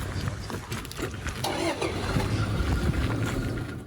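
Military vehicle engines crank and start as a demining team moves out in liberated Lyman, Ukraine, a close, rumbling start that settles into idling, with brief voices over it.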